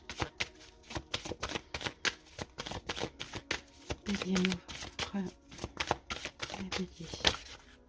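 A deck of oracle cards is shuffled in a rapid series of crisp riffling snaps over about eight seconds, with a voice faintly present in the middle.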